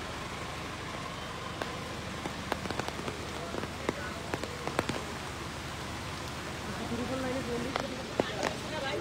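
Rain pours outdoors near a roadside in Ramganj, a constant close hiss of drops hitting surfaces, studded with sharp ticks and taps, while voices murmur faintly underneath.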